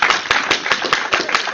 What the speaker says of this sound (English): so a round of applause should go to that guy.